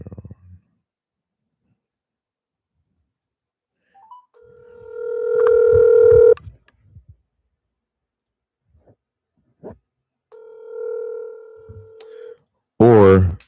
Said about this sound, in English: Oops. Dialed too prematurely.